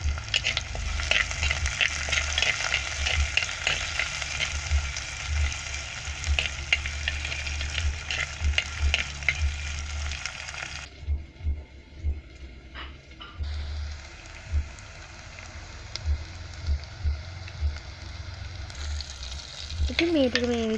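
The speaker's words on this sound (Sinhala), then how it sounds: "ඉතින් තෙල් ටික රත් වෙනකොට මම ඒකට රතු ලුණු, සුදු ලුණු, ඒ වගේම රම්පේ කරපිංචා ටිකක් මේ විදිහට දාගන්නවා." Red onion, garlic, pandan and curry leaves frying in hot oil, a steady loud sizzle with frequent stirring clatter that quiets partway through, then picks up again near the end.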